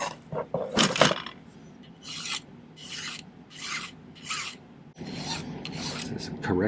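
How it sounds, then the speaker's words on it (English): A hand file rasps across a silver pendant piece in steady back-and-forth strokes, a close, gritty scraping repeated about six times with brief pauses between strokes. "This is corrective filing."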